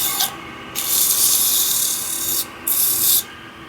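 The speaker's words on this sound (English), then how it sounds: "We're just going to sand these up." Sandpaper rubbing against a small wood-turned bowl spinning on a lathe, making a steady hissing rasp in two long loud passes with a brief pause between them.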